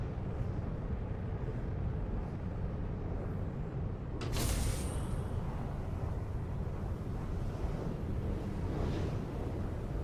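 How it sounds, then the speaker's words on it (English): Space debris rushes past a spaceship in cruise mode in the Starfield video game, heard as a steady low roaring drone with a brief bright whoosh partway through. "the sound of the space debris going by"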